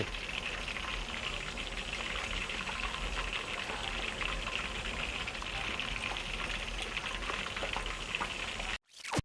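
Sea bass laid skin-side down in very hot oil over medium heat, giving a loud, steady, dense sizzle and crackle of frying that holds for most of the stretch and then cuts off abruptly near the end.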